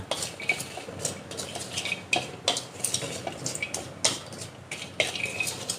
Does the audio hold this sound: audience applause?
no